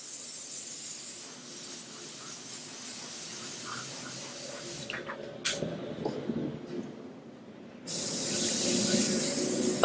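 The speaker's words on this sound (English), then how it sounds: "I'm just going to varnish over the top of these with a little bit of varnish, just to set the paint." An airbrush sprays a fine steady hiss of varnish over painted fingernails, broken by brief pauses and short bursts before the continuous spray resumes, close and fairly loud with no talking.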